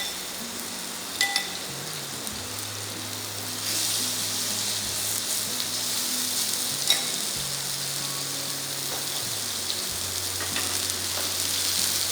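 Salt-and-pepper marinated chicken breast grilling with garlic in a pan: steady, close sizzling and frying hiss throughout, with a few faint utensil clinks and shifts in the crackle.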